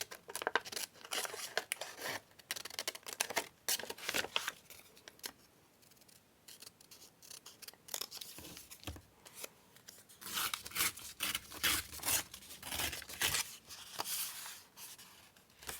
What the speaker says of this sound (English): So we'll just cut out the ones that I can see here.